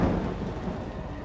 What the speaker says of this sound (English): There was a storm going on just outside the house, and it was pretty violent out there.